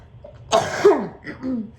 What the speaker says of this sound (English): I still have a cough left over from a cold that I had